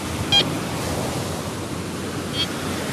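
Sea waves wash steadily onto the shore near the water's edge, producing a continuous broadband roar with wind noise and two faint brief beeps from a metal detector.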